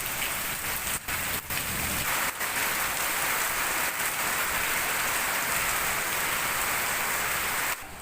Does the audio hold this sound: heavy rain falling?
yes